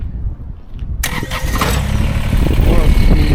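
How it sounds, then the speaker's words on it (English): A Kubota BX sub-compact tractor engine cranks and catches, then settles into a loud, steady diesel-like idle close by, with a person talking over it. "Start up the tractor."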